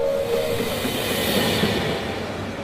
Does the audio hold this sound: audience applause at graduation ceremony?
no